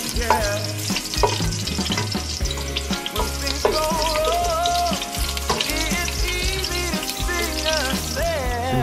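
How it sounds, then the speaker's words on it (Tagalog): Beef bones and ginger sizzle and fry in a pan as they are sautéed for mung bean soup, a continuous crackle under loud background music with a steady beat. "igigisa na ngayon natin ang ating buto-buto. Unahin natin ang luya."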